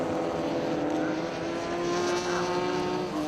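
Ginetta race cars battling for position through the Bomb Hole at Snetterton circuit, a sustained engine drone with a steady pitch heard from a distance, fairly faint and continuous with no distinct passes.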